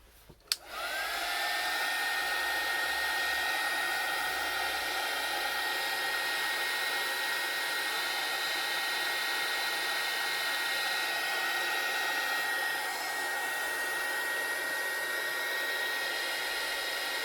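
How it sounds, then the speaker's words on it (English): A heat tool runs continuously close by for about sixteen seconds to dry a junk journal page, a steady loud whooshing blow starting with a click and holding level with a faint whine. "I've got my heat tool. I could dry it quick."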